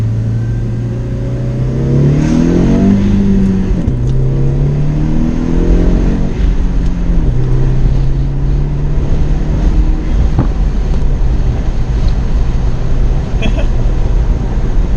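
A B6 Audi A4 1.8T, Stage 1+, pulls hard in a straight line and revs up through gears with rising pitch, heavy wind and road noise roaring throughout.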